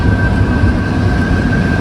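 Spanish AVE high-speed train, heard as a steady, loud rumbling rail noise with a constant tonal whine running throughout, no voices.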